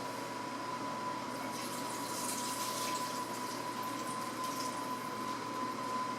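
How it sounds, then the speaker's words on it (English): Water, eight cups for a butternut squash soup, pours steadily into a cooking pot, making a continuous even rushing and splashing for several seconds with no one talking. "So now I'm going to add 8 cups of water to the pot"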